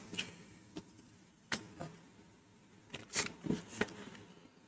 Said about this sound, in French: lorsque vous pliez la feuille en quatre, vous obtenez une surface comme celle-ci